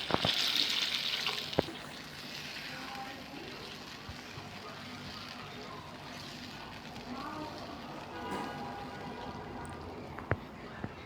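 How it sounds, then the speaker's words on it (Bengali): Coconut water is poured into a pan of prawn curry, a faint liquid splash and trickle against quiet kitchen background noise. "এখন হচ্ছে নারিকেলের পানি অ্যাড করে দিচ্ছি"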